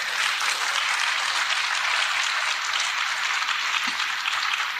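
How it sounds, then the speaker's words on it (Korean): A church congregation at a worship service claps together, a loud, continuous roar of applause that holds steady at close range throughout. "우리 성령님께 영광의 박수."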